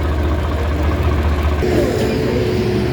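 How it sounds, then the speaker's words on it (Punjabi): A machine runs steadily at an earth-filling site where tractors haul soil, giving a loud, continuous engine drone and whir with a slight shift partway through. "ਆਪਣੇ ਅੱਡੇ ਦਾ ਮਸ਼ੀਨ ਚੱਲ ਰਹੀ ਹੈ ਆਪਣੀ"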